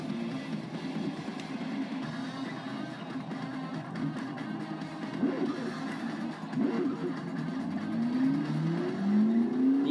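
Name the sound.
race car launching off the line in Forza Motorsport 6 video game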